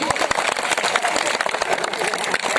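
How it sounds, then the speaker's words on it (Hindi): Dense audience applause welcoming a leader at a student stage play, loud and continuous with many overlapping claps and some crowd noise throughout. "तो लीजिए तालियों से उनका स्वागत कीजिए।"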